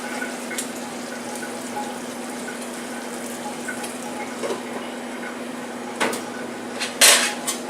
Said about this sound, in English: Add a little water for the steaming.